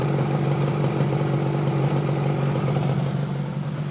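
A 1968 Yamaha AS1C motorcycle engine idles after a carburetor adjustment, giving a steady, even hum at moderate loudness with no voices over it.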